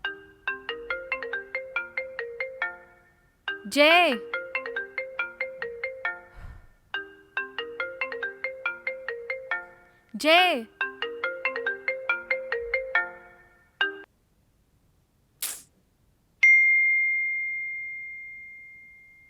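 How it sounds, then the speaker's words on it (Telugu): A mobile phone plays a looping melodic ringtone, repeating its phrase several times with brief pauses, clear and fairly loud indoors, then ends in a long steady tone, with a man briefly calling out. "జే ఫోన్ వస్తుంది చూడు"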